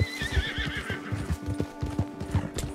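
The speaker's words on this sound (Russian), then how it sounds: "Борь, когда два человека в лошади, лошадь все-таки стамину чуть-чуть у меня расходует." Horse in Red Dead Redemption 2 gallops with rapid rhythmic hoofbeats while a high neigh rings out near the start, close and clear with no talk.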